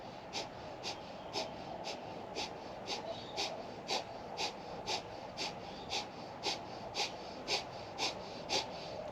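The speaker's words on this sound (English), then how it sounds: "I'm beginning breath of fire" Rapid, rhythmic breath of fire from a Kundalini yoga practitioner holding a twisted leg pose, about two sharp nasal exhales per second repeating steadily throughout, close and fairly quiet with no talking.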